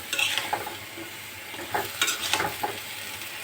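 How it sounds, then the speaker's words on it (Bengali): Vegetable stems and potatoes stir-fried in a pan, with a steady sizzle broken by several scraping strokes of the spatula, close and fairly loud, and no talking. "এটা আমরা কষা আসতেছি।"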